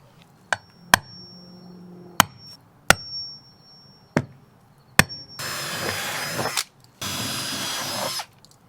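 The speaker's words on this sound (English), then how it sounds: "I'm going to drill a hole right in the middle of each of these" Sharp knocks and taps on a vintage camper wall give way to two bursts of steady power drilling as a spade bit bores a hole, loud and close.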